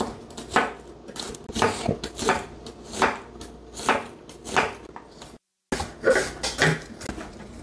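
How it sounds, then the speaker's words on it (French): Knife chopping raw chicken into strips on a board, a steady run of close, crisp cuts in uneven rhythm with a short pause partway through. "On va juste découper en lamelles"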